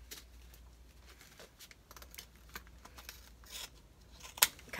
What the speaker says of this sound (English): slide your scissors in